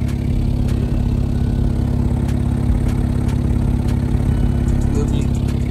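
A tuned Infiniti Q50 idles with a Soho Motorsports exhaust fitted with four resonators, two by the muffler and two by the X-pipe. A loud, steady low rumble holds for the whole stretch, with a few faint clicks over it.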